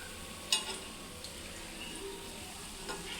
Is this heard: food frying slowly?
yes